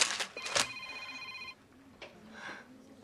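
A mobile phone ringtone sounds in a few loud, bright electronic bursts, then drops off to fainter tones against a quiet indoor background.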